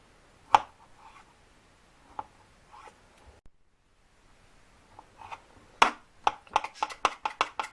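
A knife dices boiled potatoes into small cubes on a board for a beet vinaigrette salad, with scattered close taps at first and then a quick, steady run of sharp chops.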